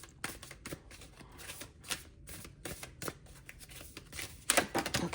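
Tarot cards shuffled by hand in a quiet room, a run of crisp riffling flutters and soft slaps with brief pauses between bursts and a louder flurry near the end, with no talking.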